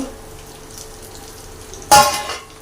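Food frying in a pan for a Sunday-evening non-veg meal: a low, steady sizzle with a sudden louder burst of crackling near the end, as if the pan were stirred or jostled.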